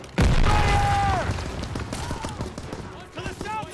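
Grenade explosions and gunfire in the World War II shooter Call of Duty WW2, opening with a heavy nearby boom, then scattered shots and bursts under shouted voices.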